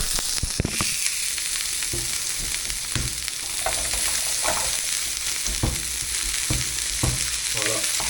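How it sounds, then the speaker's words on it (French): Carrots and potatoes frying in a pan, a continuous close hiss of hot oil broken by repeated clacks and scrapes of stirring at irregular intervals, with no talking. "Ce qui va être le plus long à cuire, c'est carottes et pommes de terre. Donc c'est ce qu'on va mettre en premier dans la poêle."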